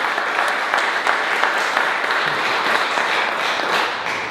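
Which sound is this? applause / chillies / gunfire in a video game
applause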